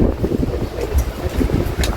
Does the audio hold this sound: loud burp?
no